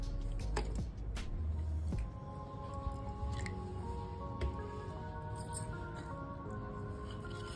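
Cardamom seeds are being washed by hand in plain water, giving soft, wet squishing and light clicking sounds that continue steadily and close up without speech.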